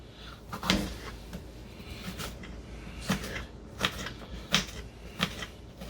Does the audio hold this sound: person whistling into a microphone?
no